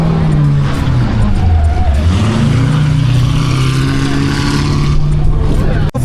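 A loud car engine roars and revs close by at a car meet, holding a steady droning tone that rises and falls, with crowd chatter and voices mixed underneath.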